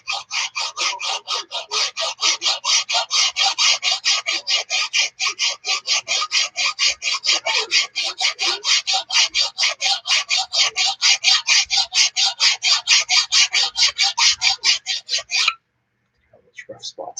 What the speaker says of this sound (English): Draw filing will give you almost a satin edge.